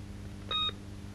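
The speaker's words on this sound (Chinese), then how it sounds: "电话啊！" A telephone gives a single short electronic beep, a brief clean tone heard faintly against a quiet room.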